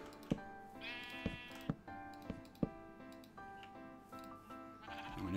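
A sheep in the video game Minecraft bleats in a few tonal calls, with sharp clicks and soft tapping around them and a faint, quiet game backdrop.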